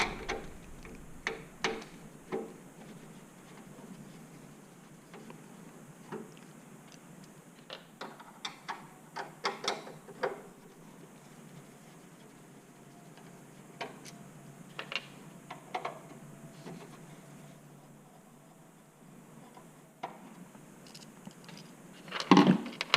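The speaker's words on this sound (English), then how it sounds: "the first thing we're going to remove are the 3 screws that hold the back panel to the T7910" Screws are backed out of the rear panel of a Dell Precision T7910 workstation with a Phillips screwdriver, giving quiet, irregular ticks and light metallic clicks close by over faint room hiss.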